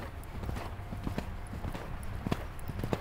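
A horse's hooves clip-clop in an uneven, slowing rhythm during a riding lesson, fairly close, with light background noise and a brief voice.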